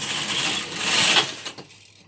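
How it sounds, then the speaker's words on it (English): A Silver Reed 840 knitting machine carriage slides across the needle bed with a loud, steady mechanical whirring and clatter that fades out near the end. "I always do the first couple a bit slowly just to make sure that we're right, and just take the carriage across."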